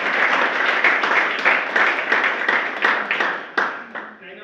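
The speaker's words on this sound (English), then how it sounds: "please give a round of applause" Audience applause at a pre-health meeting, a steady burst of many hands clapping close by that gradually thins out toward the end, with scattered voices mixed in.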